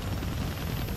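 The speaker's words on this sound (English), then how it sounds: "I can't kill that chopper with my guns" A helicopter in the Deadpool video game throbs with a dense, steady rotor roar that fills the whole moment, loud and close with no break.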